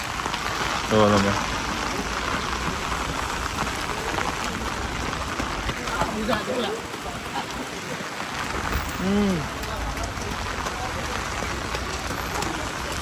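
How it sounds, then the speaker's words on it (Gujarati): Steady heavy rain pouring down on Mall Road, Shimla, a dense continuous hiss throughout, with faint distant voices briefly audible in the background. "વરસાદ ફૂલ ચાલુ થઈ ગયો હે"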